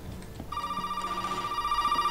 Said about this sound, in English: Oh, again with a phone call.